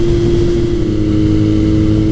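A 1981 Kawasaki KZ1000 CSR motorcycle engine cruising at 60 mph around 4,000 RPM, a loud, steady droning hum held evenly throughout with no voices.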